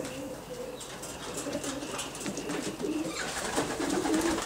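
Racing pigeons in a loft coo softly and steadily up close, with occasional wing flutters over a quiet indoor background.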